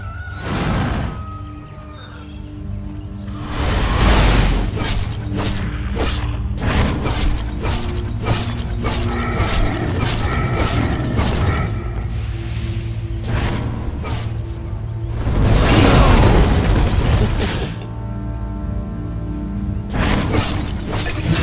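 Dota 2 match audio during a tower attack, with repeated sharp impacts, crashes and bursts over a dense, steady bed of game music and effects, loud and busy throughout.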